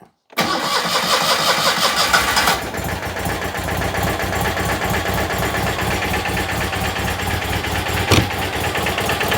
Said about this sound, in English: more of the brum brums, please, Ellie.